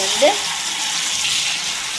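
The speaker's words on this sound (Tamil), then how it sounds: "இந்த பக்கம் பார்த்தீங்க அப்படின்னா சமத்து பிள்ளையா ஃபிஷ் ரெடி ஆகிட்டு இருக்கு" Fish fries in a pan at a home birthday gathering, giving a steady close sizzle and crackle for two seconds with a brief stir near the start.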